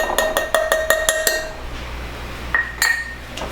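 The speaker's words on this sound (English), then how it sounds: "I'm just going to stir them around so they all get coated" Spoon stirring fresh blueberries coated in cornstarch in a dish, giving a quick run of close, bright clinks against the bowl, then a pause and a couple more taps near the end.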